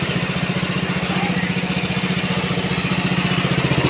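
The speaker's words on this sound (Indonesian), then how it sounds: "Mesin parut santan Mas Pur gitu." A motorized coconut grating machine for making coconut milk, running steadily with a fast, even pulsing motor chug and a gritty scraping hiss over it, close and fairly loud throughout.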